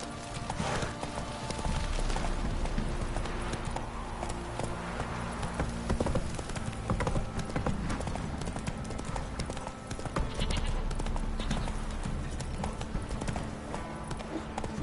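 Hooves of the horse Roach galloping in The Witcher 3, a steady rapid clip-clop rhythm running the whole time over a bed of game ambience and music, with no talk.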